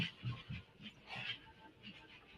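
A dog whimpers and pants in a few short bursts, fairly close and moderately loud, with faint background noise and no clear talk over it.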